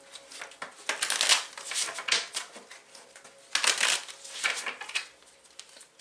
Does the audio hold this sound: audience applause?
no